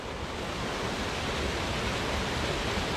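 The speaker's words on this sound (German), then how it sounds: "Natur, bisschen Wasserfall." A waterfall in a snowy winter gorge roars as a steady, dense broadband rush, constant and unbroken from start to finish.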